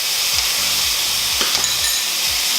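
Roasted red peppers stored in olive oil hit a hot pan, setting off a loud, steady sizzle and frying hiss, with soft rhythmic scraping and stirring strokes repeating beneath it and no talk.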